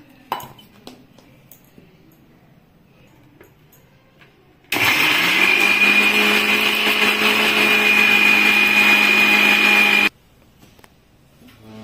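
A mixer grinder whirs loudly for about five seconds as it grinds ginger, tomato, poppy seeds and cashews into paste, starting and stopping abruptly between quieter stretches.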